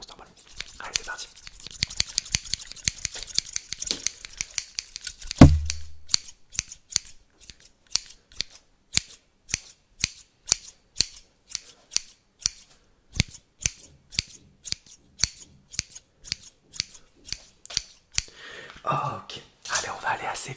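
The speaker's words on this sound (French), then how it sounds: "je vais aller 20 petites secondes avec mes ciseaux" Scissors snip close to the microphone in a steady, evenly spaced rhythm of crisp cuts, dozens of them over about twenty seconds in an ASMR setting, with soft whispering at the start and end.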